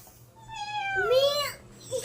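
A rising, two-second meow, apparently a person imitating a cat during a children's animal-sounds game. It is voiced once, fairly close, with no other talk.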